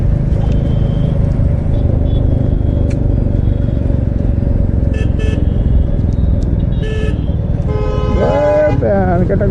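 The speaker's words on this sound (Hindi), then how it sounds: "ट्रैफिक" Busy road traffic, heard from a bike in hilly country where the road is dug up, with a constant loud rumble of engines. Short car horn toots come throughout, and a burst of rapid, wavering honks near the end. Voices talk underneath.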